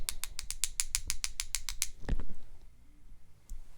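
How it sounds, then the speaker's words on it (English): A handheld spray bottle used during a watercolor cherry-blossom painting is pumped in a quick run of about a dozen crisp, evenly spaced mechanical squirts, close and fairly loud, followed by a few softer handling bumps. "I'm going to use the spray bottle to my advantage"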